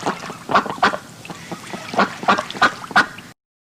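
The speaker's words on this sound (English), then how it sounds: "Duck." A duck quacks several times up close, loud nasal honking calls in two quick clusters before stopping abruptly.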